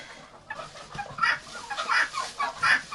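Farm ducks, two females and a drake, are let out into a new place after transport. Several soft quacks and clucking calls come up close in short bursts over a quiet background, with no voices.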